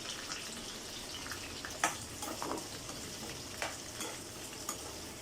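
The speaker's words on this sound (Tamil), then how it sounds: "ஆயில் ஊற்றிருக்கேன், கடாயில் போட்டுக்கலாம்." Onions sizzling in hot oil in a kadai for pepper chicken fry, a steady soft frying hiss with a few sharper crackles and stirring scrapes, fairly quiet and with no talk.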